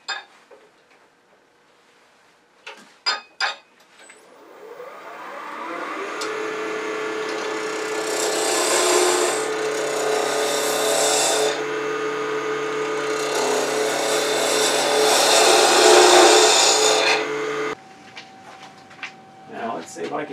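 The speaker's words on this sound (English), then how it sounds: "So we're going to use the 3/8 inch detail gouge." Wood lathe turning a salt shaker, a 3/8 inch detail gouge cutting the spinning wood in a sustained hiss that swells and holds, preceded by a few sharp knocks and ending abruptly as the lathe stops.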